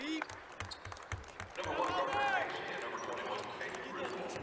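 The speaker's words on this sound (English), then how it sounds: "He'll get a round of applause." A crowd at a basketball game swells into applause midway as a player heads to the bench, over rhythmic ball bounces and squeaks, with a commentator talking throughout.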